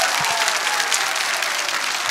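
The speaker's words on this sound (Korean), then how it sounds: "박수" Lecture audience applauding, a loud, steady burst of many hands clapping together for about two seconds without a break.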